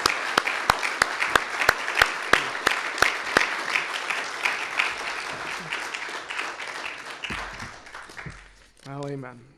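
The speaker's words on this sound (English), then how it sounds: "Folks, give him one more round of applause." Congregation applause at a church service fills the room in a dense, steady wash with sharp individual claps standing out, fading near the end as a voice begins speaking.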